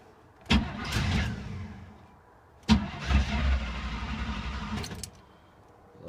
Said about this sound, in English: With the full charge, this battery or this truck should crank over nice and fast.